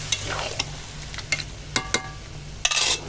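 Goat meat with potatoes cooking in a pan, the leftover marinade water poured in, with stirring scrapes and a soft sizzle at close range, a few sharp clanks of the utensil against the pan.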